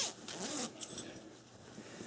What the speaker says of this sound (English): This zipper is the biggest zipper I think I've ever seen in my life.